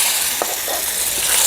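Dal being tempered with cumin, bay leaf, asafoetida and kasuri methi, giving a loud, steady sizzle and crackle of hot oil that carries on unbroken throughout.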